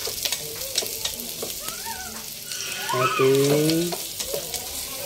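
Garlic sautéing in a pan, a steady sizzle and frying crackle with stirring, while someone speaks briefly over it.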